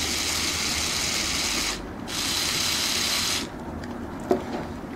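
A LEGO Mindstorms EV3 medium servo motor whirs with a close, gritty, buzzing grind in two runs with a short pause between them, then stops, followed by a faint click.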